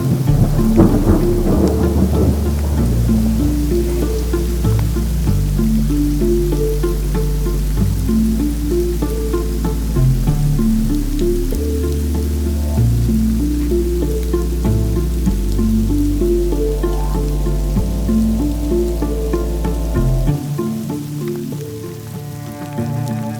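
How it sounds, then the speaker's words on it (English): Heavy rain pouring steadily with deep rolling thunder rumbling underneath, loud and continuous throughout, no voices. "we encountered rain. Rain and more rain."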